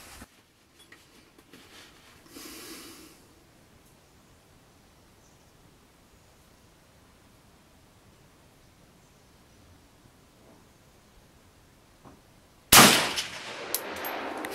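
An AK47 rifle fires live 7.62x39 rounds on an outdoor range during a 100 m test of a quick-release scope mount. One sharp, loud report cracks out near the end after a long quiet stretch, and a fainter burst comes earlier.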